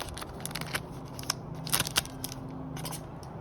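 A Hidden Arsenal Chapter 1 trading card pack is torn open: quiet foil crinkles and sharp tearing snips come in short bursts, louder near the middle, over a soft room hush.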